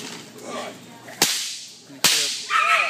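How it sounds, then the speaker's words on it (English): Two sharp whip cracks standing in for gunfire ring out loud and close, about a second apart, against quiet background noise during a temperament test of a 16-week-old red sable puppy. "No reaction to the whip simulating gunfire."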